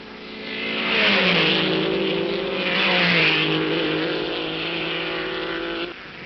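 1958 Grand Prix race cars, Ferraris among them, roar past on the Spa-Francorchamps circuit, engines swelling and fading in two loud passes on an old, band-limited recording.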